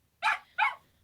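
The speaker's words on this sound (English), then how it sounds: "Sorry about the dogs again." Two sharp dog barks close by, spaced about a third of a second apart, over a quiet indoor background.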